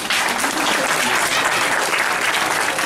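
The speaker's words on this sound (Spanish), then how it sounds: "Recibamos con un fuerte aplauso a nuestra directora Joani." Loud, dense applause from an audience welcoming a school director onstage at a festival, a steady wash of clapping lasting the whole stretch with no break.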